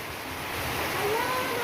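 Rainwater runs off a roof and pours into an open well during rain, heard as a steady broadband rush of flowing water with no speech.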